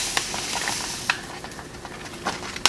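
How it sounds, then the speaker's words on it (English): A spoon stirs strawberry Jello mix in a pot just off the heat, giving soft repeated scraping and swishing with a few sharper clinks against the metal, close and fairly quiet, with no voices. "So you're gonna wanna just stir this as best you can, get it all moved around"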